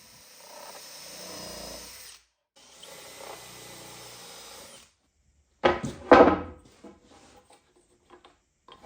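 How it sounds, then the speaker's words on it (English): A power drill pre-drills and countersinks screw holes in wooden sauna bench boards. It makes two quiet whirring runs, then a short loud burst of bit grinding into the wood, followed by a few faint clicks. "now I'll pre-drill and countersink the holes"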